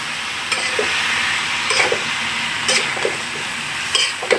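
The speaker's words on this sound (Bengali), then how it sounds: "তার আগে একটু নেড়ে দিই" Food frying in a pan on a home stove as a spoon or spatula stirs it, with constant sizzling and occasional scraping clinks against the pan.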